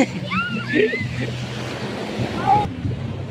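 Ocean waves wash onto the shore with a broad rushing roar and wind buffeting the microphone, while voices call out briefly over the surf.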